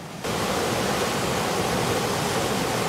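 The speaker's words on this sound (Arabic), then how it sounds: "تسيل الشعاب والأودية" Water rushes steadily through valleys and ravines after rainfall, a dense, continuous roar that starts abruptly and holds at an even level throughout, with no voices.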